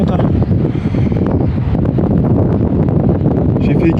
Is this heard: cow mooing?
no